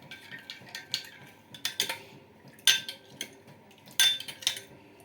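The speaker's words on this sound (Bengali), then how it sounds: "তেল দুটোকে ভালো করে এর সাথে মিশিয়ে নেব" A spoon stirs coconut oil together with another oil in a small bowl, making a series of light metallic clinks and scrapes in an irregular rhythm, close and fairly quiet, with no talking.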